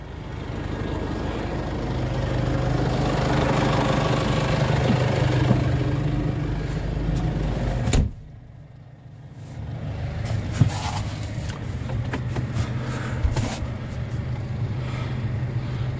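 Tractor engine running steadily with a lime spreader attached, a constant loud mechanical hum that drops sharply around the midpoint and then continues with a rougher, clattering drone as the spreader turns.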